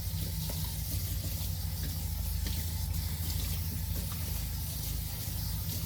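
Fresh strawberries get a quick rinse under a running kitchen tap, the water pouring in a steady, fairly loud rush over a low hum for the whole stretch, with no talking.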